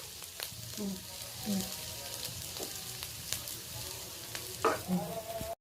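Paste of green chili, cashew and raisin sizzling as it hits hot oil in a pan for egg korma, a steady close frying hiss with stirring scrapes and clatters, no talking.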